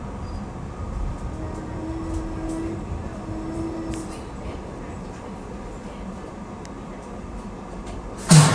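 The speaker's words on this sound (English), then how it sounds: "Comes train 134 en route from Roanoke to New York." A train rumbles steadily past with a low, continuous roar and faint rail noise, ending in a sudden loud burst.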